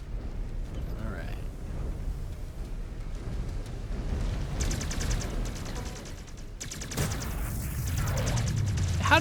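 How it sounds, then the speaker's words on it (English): Gunfire and booming blasts from a mech battle in the video game MechWarrior 5: Clans, with a rapid clattering barrage, a sudden heavy burst near the end and a voice talking throughout. "Reactor. Explosion imminent."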